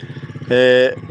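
A motorcycle pulls up close in a village, its engine thumping in a rapid steady beat with a brief loud tonal blare, like a horn, over the top midway.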